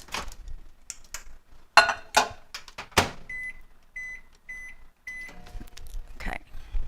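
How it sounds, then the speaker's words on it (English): A microwave oven heats chocolate ganache for a brownie Snickers bar recipe, with clunks and handling noises followed by a run of short, evenly spaced electronic beeps, fairly close. "I'm going to go ahead and heat the ganache up one more time for 20 seconds in the microwave"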